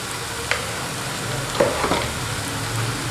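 Ginger and spices frying in a pan for beef karahi, with a steady low sizzle throughout and a few soft stirring clinks and scrapes near the start and middle.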